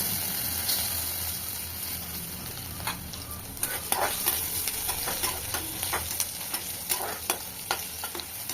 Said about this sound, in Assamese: পিঁয়াজখিনি অকণমান ফ্ৰাই হ'ব দিব লাগিব।